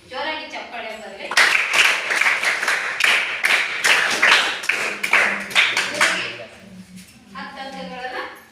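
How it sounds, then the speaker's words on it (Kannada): Students at a school quiz burst into loud, dense applause lasting several seconds, with a person talking just before and after the clapping. "ಜೋರಾಗಿ ಚಪ್ಪಾಳೆ ಬರಲಿ"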